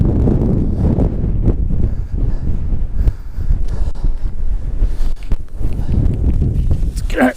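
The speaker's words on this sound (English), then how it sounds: "It's quite windy tonight." Strong wind buffets an exposed hillside wild camp at night, roaring and gusting steadily across the microphone in a loud, continuous rush with no talk over it.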